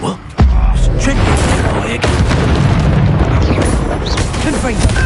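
Confringo fire spell blast in Hogwarts Legacy on PS5, a sudden loud boom followed by sustained rumbling explosive effects, with a voice shouting spell names over it.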